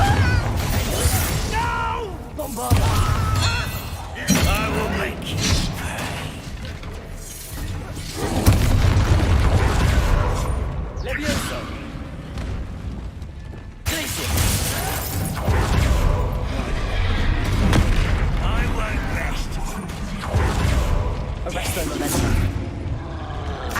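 In the Hogwarts Legacy video game, Confringo blasting spells set off repeated explosive booms, crashes and shattering bursts, with a voice talking over the action throughout.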